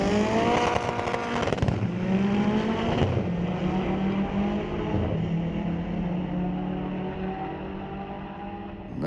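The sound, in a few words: turbocharged K20 engine in 1973 VW Beetle drag racing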